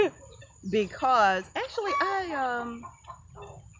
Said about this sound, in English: I enjoy the sounds of the guineas